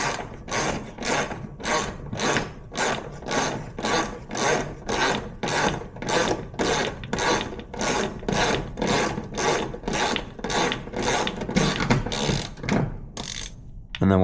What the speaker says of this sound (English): remove this one bolt holding the bracket in place. So we'll go ahead and remove that